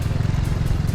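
A motorcycle rolls across a wooden suspension bridge, its engine giving a steady low rumble with rattling, knocking boards underneath, loud and close throughout.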